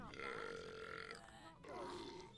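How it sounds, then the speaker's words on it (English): A character in the video game Fable 2 lets out a long, loud belch that stretches out, breaks briefly, then rolls on again with a second belch. "Let's belch, shall we?"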